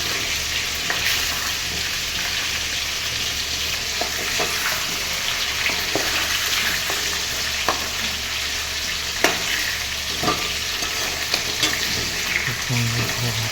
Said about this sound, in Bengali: দেখতেই পাচ্ছেন সুন্দর করে গোল্ডেন ব্রাউন কালারে ভাজা হয়ে গেছে।